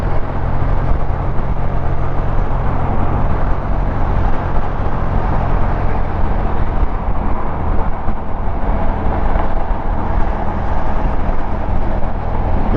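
Car tires rolling over grooved freeway pavement heard from a Kymco AK 550 scooter, a loud, steady road roar with constant low rumble and no breaks throughout.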